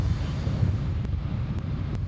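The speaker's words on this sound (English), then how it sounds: "we're getting smashed with the gusts" Low, rumbling wind buffets the microphone in uneven gusts at Sydney Airport, a steady blustery roar with a few faint ticks.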